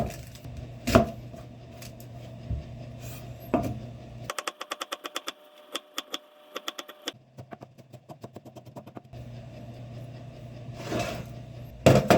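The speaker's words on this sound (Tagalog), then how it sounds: "Teknik ko dito para hindi pumait yung ampalaya hinihiwa ko siya ng manipis na manipis" Bitter gourd (ampalaya) is sliced very thinly with a knife on a cutting board, giving rapid, evenly spaced chopping taps in quick bursts against a steady background hum.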